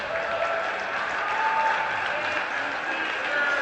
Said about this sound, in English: a great round of applause from the crowd here